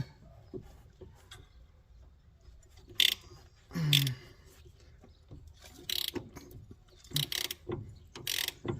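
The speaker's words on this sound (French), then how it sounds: "Ensuite, une douille de 13. On dévisse ici." A ratchet with a 13 mm socket loosens a bolt while replacing the steering tie rod end on a Renault Clio 2. It makes several short, sharp clicking bursts at irregular intervals over quiet background noise.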